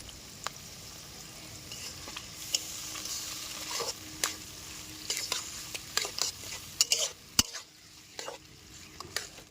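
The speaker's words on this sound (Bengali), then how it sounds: "আমাদের পেঁয়াজ কিউবস সব ভাজা হয়ে গেছে।" Onions and capsicum sizzle steadily in a hot pan while a spatula scrapes and clinks at irregular intervals as they are stir-fried.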